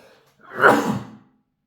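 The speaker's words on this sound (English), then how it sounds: "I'm just going to sneeze." A single sneeze, short and close, with a quick intake of breath and a sharp burst, surrounded by quiet.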